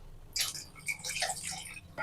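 Water being poured into a pot for sweet corn and vegetable pulao, a splashing, trickling pour that starts abruptly and runs for about two seconds, close and fairly clear with no talking.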